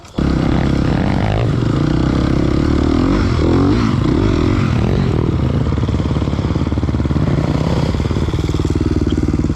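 A motorcycle engine putters loudly at the lowest revs while riding, a steady deep throbbing rumble that starts abruptly and continues with slight rattling throughout.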